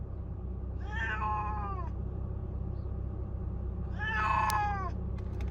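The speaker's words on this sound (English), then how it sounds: "You can hear how upset this cat is." Upset cat meowing inside a car during transport, two long, loud, drawn-out wailing meows about three seconds apart over a steady low road rumble.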